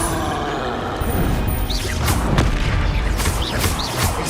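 Incendio and Confringo spell blasts in the video game Hogwarts Legacy, loud booming fiery bursts and crackling impacts layered over dense continuous game noise.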